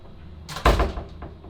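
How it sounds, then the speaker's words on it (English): A single thudding impact on a door, close and fairly loud, with a brief rattle after it and a fainter second tap; no one speaks. "All right, close all the way and knock."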